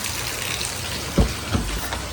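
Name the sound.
heavy rain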